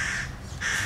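Crows caw at a Japanese shrine, two loud harsh calls in quick succession with a short gap between them, close by and alone.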